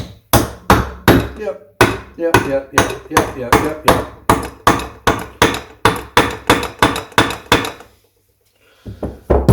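A hammer taps repeatedly on the timing case of a Triumph Trident T150V engine during a rebuild, giving around twenty sharp, evenly spaced close knocks, then a pause and a final strike, with a brief spoken word.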